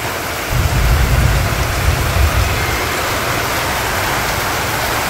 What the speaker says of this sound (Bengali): তো অনেক বৃষ্টি হয়ে যাচ্ছে আজকে